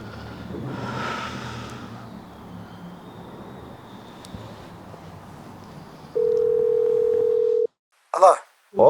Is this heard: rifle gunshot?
no